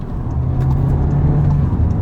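A 7th-generation Volkswagen Jetta drives and accelerates, giving a steady, loud low engine hum and road drone from inside the cabin. The sound stays continuous and even throughout.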